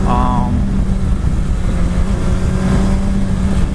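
A 2019–2020 Suzuki Hayabusa motorcycle engine pulls hard in second gear at highway speed, a loud steady drone with rising harmonics, heard close and continuous under wind roar.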